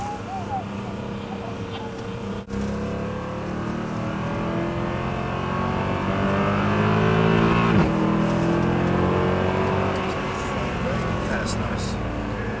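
A Mercedes-AMG car drifting around a circle on a driving course, its engine droning steadily and rising in pitch as it accelerates, with an instructor speaking over the continuous engine noise.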